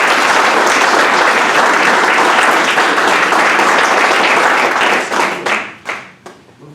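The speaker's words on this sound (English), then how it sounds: "please join me in welcoming Scott with a warm round of applause" A warm round of applause from an audience at a university civics day event welcomes a speaker, loud and dense for about five seconds before thinning into scattered final claps.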